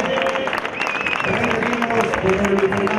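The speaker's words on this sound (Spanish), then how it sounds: "por favor, ese aplauso." Applause and scattered cheers from a crowd at the junior podium ceremony of an outdoor event, with whistles and voices mixed into steady clapping.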